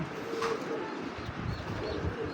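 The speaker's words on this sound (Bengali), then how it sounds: "কবুতরটা কিন্তু মাশাআল্লাহ অনেক সুন্দর" Soft pigeon coos sound a few times against a steady background hum, nearby and fairly quiet.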